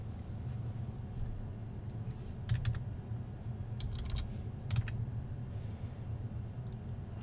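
Clicks from a computer keyboard during an online Pokémon battle, sparse taps that come in a few quick clusters over a low steady background hum, fairly faint, with no speech.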